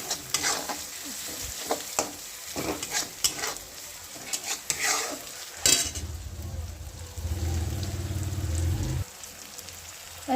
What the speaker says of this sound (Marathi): त्याचा एकजीव करून घ्यायचा. इकडून तिकडून हलवत राहायचं.